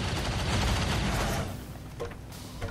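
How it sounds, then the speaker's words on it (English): Hostile gunfire in the XCOM 2 strategy game rattles out in a dense, loud burst of rapid shots, then thins into a few scattered impacts and clanks near the end. "Hostile fire on my position."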